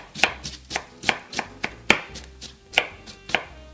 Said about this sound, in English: Next we're going to chop the cabbage.